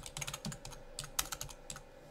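Quick, light clicking of computer keyboard keys as a folder name is typed, a short irregular burst of taps heard up close and alone.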